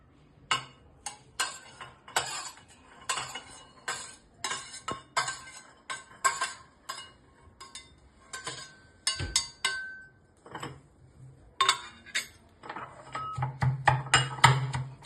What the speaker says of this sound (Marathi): खलबत्त्यामध्ये कुटणार आहोत, कारण की त्याची चव मस्त लागते